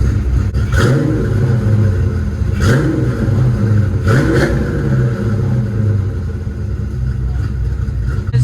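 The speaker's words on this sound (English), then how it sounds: "Give her a couple baby revs." A Ford Mustang Foxbody engine idles with a deep rumble and is blipped three times in quick revs, each rising sharply and falling back.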